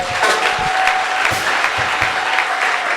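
A church congregation claps in loud, sustained applause that fills the room, with a murmur of voices underneath.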